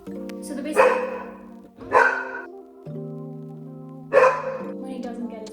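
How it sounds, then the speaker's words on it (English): Dogs barking in the background of a home: a few separate barks and yips rise at spaced intervals over a steady tonal hum, fairly faint and distant. "we have some dogs in the background that you might see"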